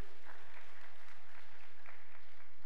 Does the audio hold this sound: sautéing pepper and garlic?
no